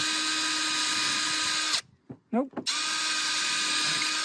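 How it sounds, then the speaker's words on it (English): A power drill boring into an old bar of soap, a steady high whine that cuts out briefly while a voice says a single short word, then resumes with the same even motor drone, loud and close. "let's see if I can drill it without it breaking apart."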